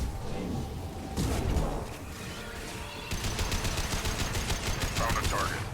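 Gunfire in the video game Mass Effect 2, heard as dense, loud shots that turn into rapid, evenly spaced bursts of automatic fire during the second half, with a voice talking underneath.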